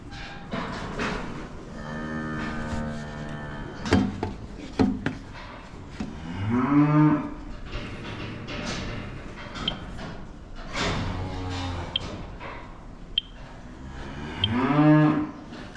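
Heifers and cattle in a pen on a contract-rearing farm moo loudly several times, with long drawn-out calls close by. Metal gates clank and thud in between.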